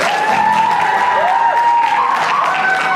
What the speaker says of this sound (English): Clap it up one more time.